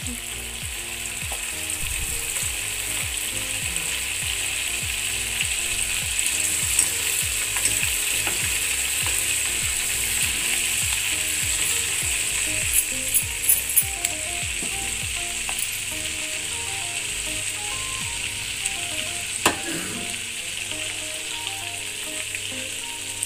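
Cream simmers in a pan as it turns into ghee at home, giving a steady, loud bubbling sizzle with fine crackles throughout and occasional scrapes of stirring, with no talking.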